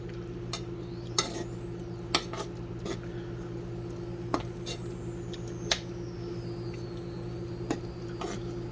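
Occasional scrapes and light clinks of a spoon stirring mac and cheese in a pot over a steady background hum, with irregular gaps between strokes.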